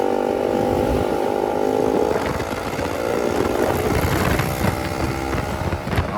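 KTM RC390 BS3 motorcycle being ridden with a soft, underinflated rear tyre, engine droning steadily close to the rider with rising revs, wind rush and road noise, no talk.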